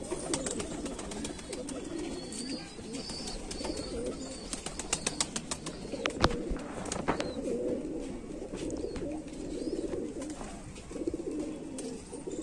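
Big, sturdy pure-bred fancy pigeons coo steadily at close range, joined by brief bursts of wing flapping and scattered bird calls in a busy loft.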